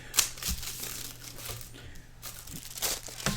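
A sheet of paper is handled and crinkled nearby, with bursts of rustling and crackling spread over a few seconds and no talking.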